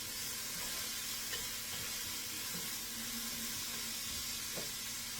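About a tablespoon of garlic sizzling in a pan, a steady soft frying hiss with faint occasional crackles, close but quiet and unbroken throughout.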